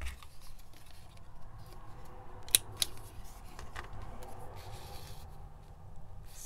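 Scissors snipping paper while trimming a junk journal specimen pocket, two sharp close snips in the middle amid faint rustling and handling, quiet overall.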